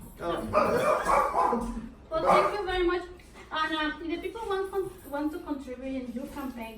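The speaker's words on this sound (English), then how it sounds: "That's my dog." A pet dog barks and yips in a home kitchen setting during a cooking interview, the short barks mixed in under steady conversation between two people.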